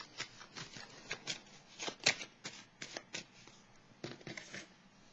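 Tarot cards being shuffled by hand, a series of crisp riffling and slapping bursts in an irregular rhythm, close and fairly quiet, with no talking.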